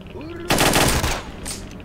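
A loud, close burst of automatic rifle fire in S.T.A.L.K.E.R.: Shadow of Chernobyl, rapid shots running together for about half a second and then trailing into echoing noise.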